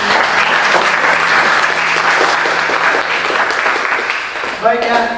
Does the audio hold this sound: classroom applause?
yes